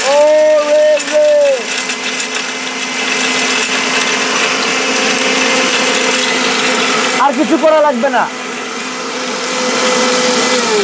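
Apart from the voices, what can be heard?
electric blender running with pulse mode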